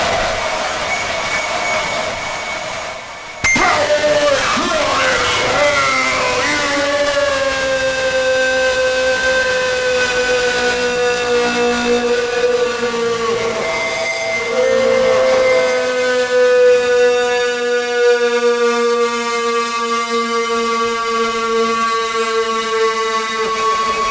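An OAM Time Machine pedal fed by an envelope follower produces a harsh, sustained electronic drone with sliding, siren-like pitch sweeps and a gritty buzzing texture after a sharp cut near the start, loud and continuous with no talk.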